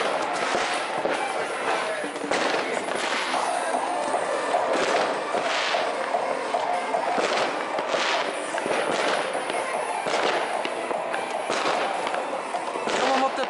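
New Year's Eve firecrackers and fireworks bang and crackle in a dense, continuous barrage of sharp pops, near and far, through the whole stretch, with voices talking now and then underneath.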